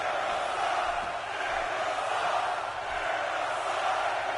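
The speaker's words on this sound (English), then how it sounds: "Erie is just chanting Jericho sucks, they're behind Curtis Axel to knock off the champion." A large indoor wrestling crowd chants steadily and loudly against a champion in a sustained roar with little break, during a live pro wrestling event.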